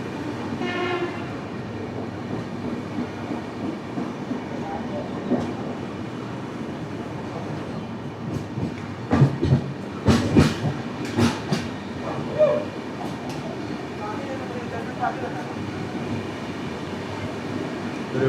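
The 12431 Rajdhani Express runs through an old historic station without stopping, a steady rumbling roll with clattering wheel impacts that grows louder and busier midway, with bursts of rattling as carriages pass close.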